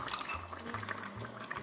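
Liquid pours in a soft, burbling trickle into a cooking dish with fresh parsley and dried thyme, faint and close, with no talking.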